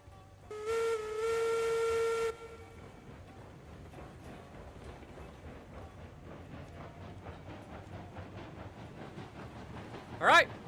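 A steam locomotive in the railway game RAILROADS Online gives a loud whistle blast, then chuffs off under throttle with quickening exhaust beats and rail clatter, ending in a sharp hiss.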